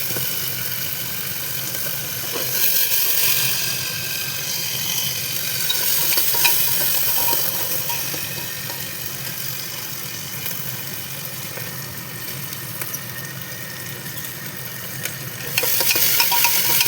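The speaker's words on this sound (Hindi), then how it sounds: "जैसे ही लहसुन फ्राई हो चुका है, अब डालेंगे इसमें हरी मिर्च। मिर्च के बाद डालेंगे इसमें मटर।" Garlic, green chillies and peas frying in a pan at home, a steady sizzle with scraping stirring strokes throughout, moderately loud and without talk.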